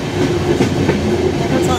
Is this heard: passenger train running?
yes